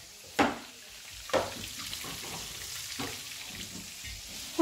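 Cutlets fry in a pan with a soft, low sizzle, broken by a few sharp scraping or stirring clatters at irregular moments. Nobody is speaking.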